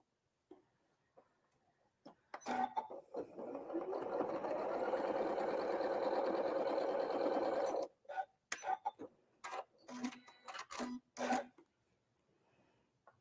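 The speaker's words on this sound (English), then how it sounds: "we're sewing that 1/4 inch along the bottom there" A sewing machine stitches a quarter-inch seam along quilt half-square triangles in a steady, even whir lasting several seconds, followed by scattered fabric handling and rustling. It is close and clear, with no voices.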